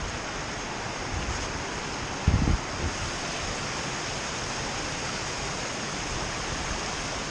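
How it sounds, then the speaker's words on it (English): A steady, loud rush of falling water fills the whole stretch without a break, with one brief thump partway through. "we need to get across this waterfall"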